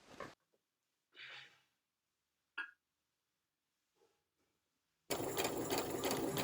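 A sewing machine fitted with a narrow hem foot stitches a folded hem in one loud, steady, close burst at the end, after a quiet stretch of faint rustles and breaths.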